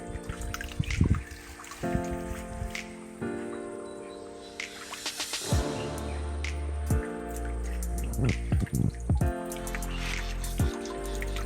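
Fresh water trickles and drips nearby in small irregular splashes, with a few louder plops standing out over a quiet background.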